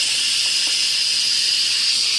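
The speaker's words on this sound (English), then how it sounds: "We are going to hit quick release." Steady, loud hissing of steam rushing out of an Instant Pot pressure cooker valve during quick release, continuous and unbroken throughout.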